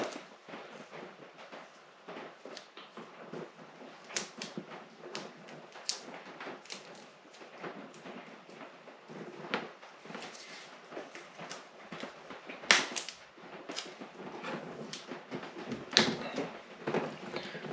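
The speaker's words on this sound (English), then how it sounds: "I will tape these wire nuts up." Electrical tape being pulled and wrapped around wire nuts during a 12V RV dimmer switch and LED install: irregular sharp ticks and crackles, close and fairly quiet, with no talking.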